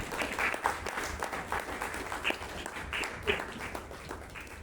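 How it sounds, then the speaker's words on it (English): A Toastmasters club audience applauds a president taking her seat, a thick, continuous wash of many hands clapping at moderate loudness for several seconds, with no voices over it. "Round of applause."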